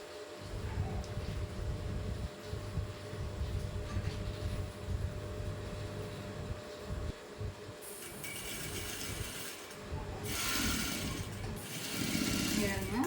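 A sewing machine stitches a frill onto a blouse sleeve with a steady mechanical whirr in sustained runs and a few short pauses, while a person speaks at times over it.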